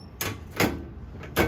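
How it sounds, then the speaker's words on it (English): The access door of a Broaster SmartTouch fryer is closed, giving three short clunking knocks spaced about half a second apart, close and fairly soft, with faint rattling between them. "So we're gonna close our access door"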